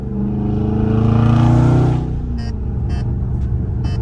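A Dodge Charger Scat Pack exhaust revs up loudly in night traffic, swells and fades, followed by a steady idle with a few short faint ticks.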